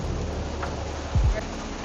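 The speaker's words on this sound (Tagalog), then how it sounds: "Anyway, it's raining. Inabot tayo ng ulan." Steady rain pours down outdoors in Hong Kong, a continuous hiss with a low thump partway through.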